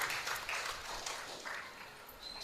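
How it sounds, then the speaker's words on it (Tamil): A church congregation applauding, scattered hand claps in uneven bursts, moderately loud, with a faint ringing tone near the end. "ஒரு பெரிய பலத்த கைத்தட்டல் கொடுப்போம் நாம"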